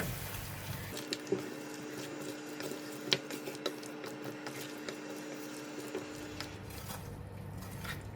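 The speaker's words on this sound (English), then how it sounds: "I'm going to add in about 1 cup of water." Water poured into a pot of Malaysian chicken curry with potatoes and coconut milk, a faint steady trickle and splash running for several seconds with light clinks and bubbling around it.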